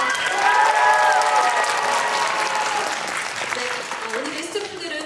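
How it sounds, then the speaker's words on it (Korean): Sustained audience applause at a Busan International Film Festival guest talk for the film Broker, dense clapping filling the room steadily with a few faint cheers. "여러분 박수 한 번만 더 부탁드릴게요."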